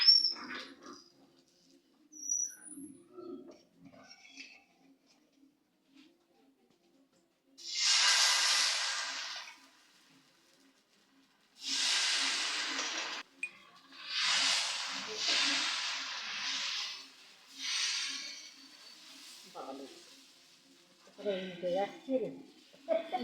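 Saru chakli pancakes fry in oil during Laxmi puja. Several separate loud bursts of hissing sizzle each last a second or two, with quiet gaps between them. Some talking is also heard.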